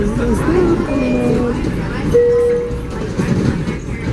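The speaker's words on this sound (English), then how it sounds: "This is the train." A train rolls past with a steady rumble and wheel clatter, a brief horn-like tone sounding partway through, while people talk nearby.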